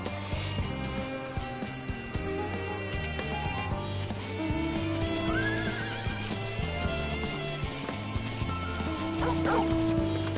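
A horse neighs in a video game about building an ark, a loud whinny amid clip-clopping hooves, with dog-like barks and yips mixed into the busy game soundscape.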